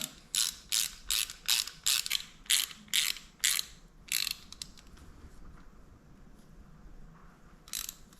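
Ratchet clicking in quick bursts while tightening a bolt on the front brake caliper of a Suzuki Marauder 250 (GZ250) motorcycle during a brake pad change, close and crisp, then fading to quiet room noise.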